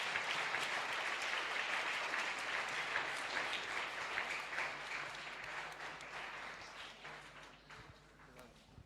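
A church congregation at a first-Sunday service applauds in a sustained, dense wash of clapping that carries on throughout and fades slightly toward the end.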